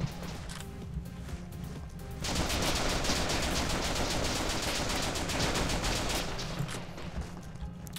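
Sustained burst of hip-fired G36 rifle gunfire in a video game, a dense rapid stream of shots starting after about two seconds of quieter background and continuing loud to the end.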